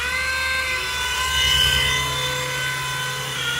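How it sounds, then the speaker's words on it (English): Steady, close whine of a small toy helicopter's motor and rotor, loud and continuous with a high pitched buzz and no talking. "This helicopter gonna get twirled."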